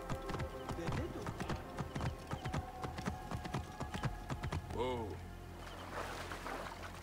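Horse hooves clip-clop at a steady rhythm while riding in the video game Assassin's Creed Origins, moderately close, with a brief whinny near the end.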